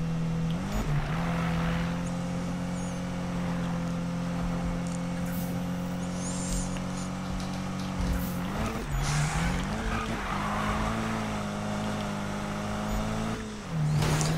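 A Subaru in the video game Need for Speed 2015, its engine droning loudly and steadily with pitch rising and dropping at gear changes, plus occasional short tire squeals.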